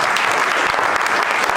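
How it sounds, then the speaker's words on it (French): A French federal party congress audience applauds steadily for a short, dense burst, the clapping loud and continuous throughout with no voices rising above it. "Alors, on peut l'applaudir si vous voulez."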